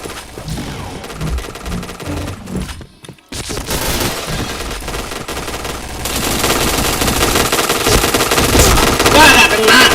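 Rapid automatic gunfire in the shooter game Point Blank, loud and dense, broken by a brief silence before sustained bursts resume and build toward the end, with faint voices underneath.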